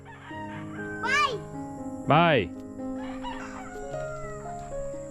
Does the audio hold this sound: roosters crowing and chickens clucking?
yes